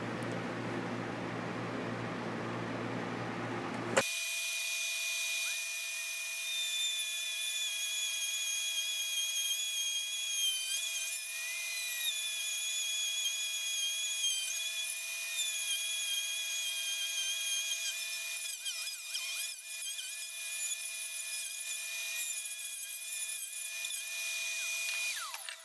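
A surgical AMK 4 power drill runs steadily and loudly for about twenty seconds, a continuous high whine with shifting pitch and slight wavering toward the end, starting abruptly after a few seconds of quieter background.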